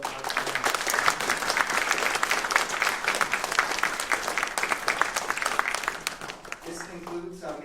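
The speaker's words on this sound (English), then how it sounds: "Can we have another round of applause for our panel?" An audience at a symposium on human trafficking applauds its panel, sustained dense clapping that runs for several seconds before thinning out as a voice begins.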